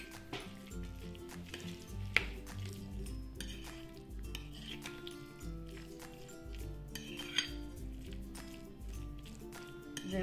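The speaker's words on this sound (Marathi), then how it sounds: "हे चांगलं मिक्स करून घ्यायचं." Clinking and scraping of a utensil against a bowl as an Indian side dish is mixed, with soft squishy stirring and a couple of sharper taps, steady and close throughout.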